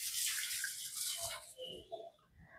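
Water is poured over soaking rice, horse gram and urad dal, a close, hissy splashing pour that starts strong and fades into softer trickles and gurgles, quiet overall with no talking.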